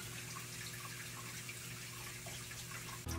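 A water mister sprays a fine steady hiss for a pet iguana to drink from, faint and continuous with a low background hum, ending in a brief click.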